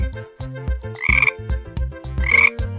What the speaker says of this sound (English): A green frog jumps high, ribbit, ribbit.